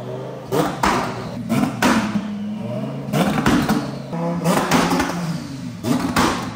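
A Lamborghini engine revs hard in repeated bursts, with sharp pops and bangs as the exhaust spits flames between throttle blips, loud and close.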